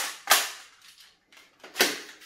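A cap gun fires two sharp, loud pops about a second and a half apart, each snapping off quickly with nothing else around them.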